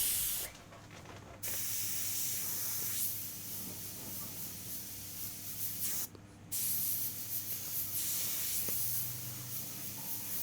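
Airbrush spraying paint on an eagle underpainting, a soft steady hiss in several bursts broken by short pauses, close and alone.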